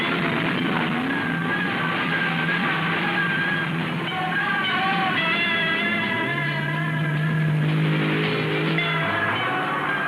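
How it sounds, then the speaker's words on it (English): Offshore racing powerboats from the 1977 Venice Class 1 race are running trials with their engines. A steady loud drone holds throughout, and a deeper engine note joins in near the end. "The boats that will line up for the start tomorrow, now going out for trials and final touches to the engine"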